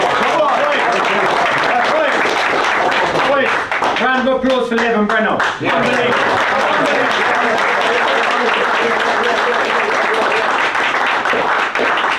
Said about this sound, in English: Round of applause for Levin